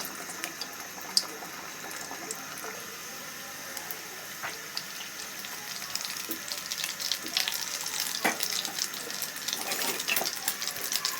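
Mughlai paratha sizzling steadily in hot oil during home cooking, a continuous soft hiss and crackle with occasional sharper pops, fairly faint and unbroken throughout.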